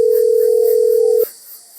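A single steady telephone dial tone holds for over a second, then cuts off abruptly as a call to a brother is placed, leaving faint background hiss.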